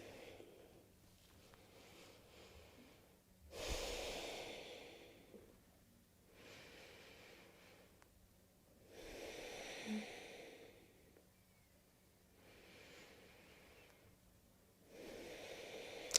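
Slow, quiet breaths are drawn in and let out through the nose while a Pilates pose is held, several soft, airy exhalations spaced a few seconds apart with near-silence between them.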